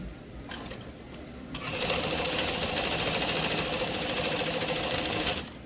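A sewing machine stitches two fabric ends together at a three-eighths-inch seam, starting after a quiet pause and then running steadily and close for several seconds with a fast, even whir before stopping.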